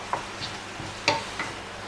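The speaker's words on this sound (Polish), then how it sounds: "Będziemy to smażyli Około 5-6 minut więcej nam nie potrzeba." Cucumbers and tomatoes sizzling in a pan over very high heat, soft steady frying with a few sharp utensil scrapes and taps from stirring, close and alone.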